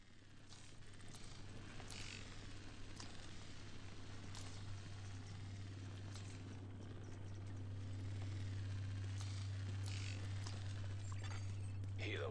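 A helicopter in the video game The Division 2 whirs steadily at a distance, its low throbbing rotor drone swelling louder toward the end, with faint game effects around it and a voice speaking over it.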